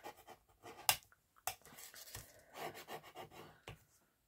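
A bone folder rubs over paper craft pieces in short scraping strokes, soft and close, with a few sharper scratches and brief pauses between passes.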